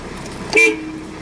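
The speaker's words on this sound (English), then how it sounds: "Have your little horn buttons right here." Short car horn toot from the horn buttons on a 4-spoke steering wheel, a single brief honk at close range standing out over a low steady background.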